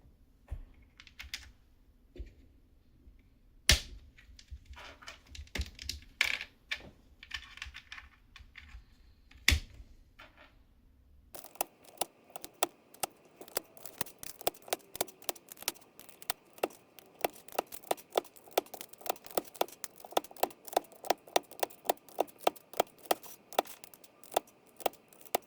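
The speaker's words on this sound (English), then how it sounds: "switch back to this keyboard where we can install all of our switches from the Kisnt keyboard" Mechanical keyboard switches from a Kisnt KN85 are pressed into a K530 board, giving sparse irregular clicks and snaps that become a rapid, steady run of crisp plastic clicks, close and without talk.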